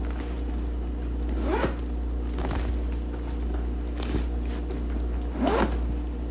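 The zipper on a Louis Vuitton Monogram Speedy 25 handbag is pulled open and closed several times, each quick rasping zip close by and separated by short pauses.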